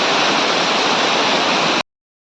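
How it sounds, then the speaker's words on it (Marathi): Small forest waterfall at Kalambaste near Sangameshwar, a steady, dense roar of falling water filling the whole clip up close, then cutting off abruptly. "फायनली आपण या धबधब्याच्या इथं पोचलेलो आहे"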